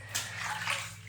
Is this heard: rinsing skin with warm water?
yes